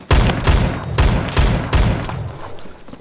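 Shotgun fire in the Phantom Forces video game, loud booming blasts in a regular rhythm, about six shots roughly half a second apart, each one trailing off briefly, no voices.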